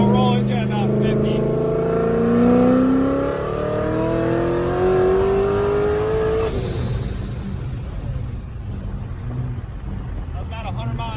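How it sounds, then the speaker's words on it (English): A supercharged C5 Corvette making over 900 horsepower accelerates hard through second and third gear with traction control off. The engine climbs loudly in pitch, shifts, then pulls again while someone talks over it. "we'll get a pull here in second and third gear"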